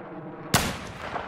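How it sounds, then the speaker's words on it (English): A single sharp rifle shot cracks out in Battlefield 4, loud and sudden after a low ambient bed, followed by a short rumbling tail. "I'll try and use my epic looking rifle here to take down a barrel"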